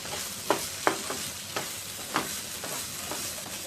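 A spoon scrapes and stirs paneer bhurji with capsicum and tomato in a pan, several distinct knocks and scrapes spaced irregularly over a soft, low sizzle.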